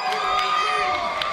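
A wrestling crowd at a tag-team match cheers and shouts loudly in a short, sustained roar with high excited voices mixed in.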